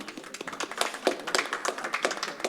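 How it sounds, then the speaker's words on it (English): Audience applause at a panel discussion on supply chain management as a panelist is introduced, a steady patter of scattered individual claps from a modest crowd, fairly close and even in rhythm. "So please give him a huge round of applause, everyone."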